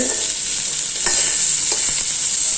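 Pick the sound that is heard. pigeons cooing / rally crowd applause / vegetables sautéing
vegetables sautéing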